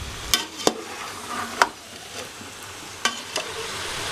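Chicken feet frying in spices in a pan, a soft sizzle broken by a few sharp stirring clacks and pops at irregular intervals, close and fairly quiet.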